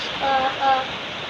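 Strong typhoon wind from Typhoon Kristine gusting in Tanauan City: a steady broadband roar with faint whistling tones that swell twice in quick succession, close and loud, with no voices.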